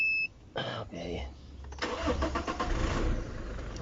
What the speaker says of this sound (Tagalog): I-start ko yung sasakyan.